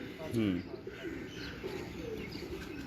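Pigeons coo softly in the background, with one clearer rolling coo near the start and fainter calls after, alongside quiet speech and low ambient noise.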